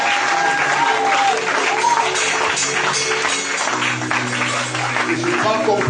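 A congregation at a prophetic church service in Libreville applauds and cheers loudly, a dense sustained wash of clapping and voices under steady crowd noise with musical tones beneath.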